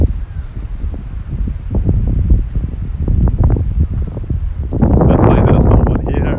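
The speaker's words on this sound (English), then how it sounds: "Oh, gust of wind coming," A gust of cold wind rushes across a ship's deck, rumbling and buffeting the microphone, building into a louder roaring surge near the end, with a person speaking over it.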